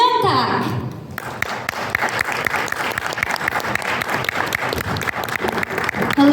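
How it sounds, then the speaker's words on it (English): After a brief burst of voices, a media conference audience in Manila breaks into dense, steady applause welcoming a Korean trot singer, the clapping continuing evenly to the end. "let's give him a big round of applause"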